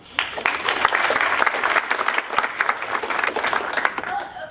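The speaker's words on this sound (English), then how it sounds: "So let's give her a round of applause." Audience at a university ethics seminar breaks into applause, a steady burst of many hands clapping that fades out near the end.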